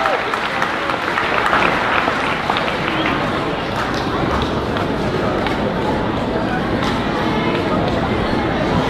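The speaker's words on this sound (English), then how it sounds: "Can we have another round of applause for Mrs. Guitars and Mrs. Soprano's class?" A crowd at a fifth-grade moving-up ceremony gives sustained applause, thick and close, mixed with chatter and shuffling footsteps as students move about.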